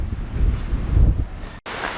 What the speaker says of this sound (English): Not only raining, but wind. Holy cow!